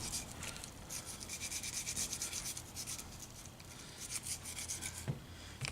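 A brush scrubs lead fouling out of a steel gun barrel with an abrasive aluminum-based cleaner, giving a continuous close raspy rubbing with rhythmic back-and-forth strokes, faint and steady throughout.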